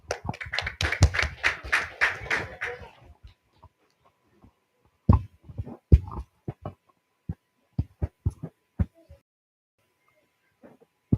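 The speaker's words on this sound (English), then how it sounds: "Duryodhana clapped with glee." Hands clapping with glee, a fast run of loud claps at first, then sparse scattered claps and taps that thin out over about eleven seconds.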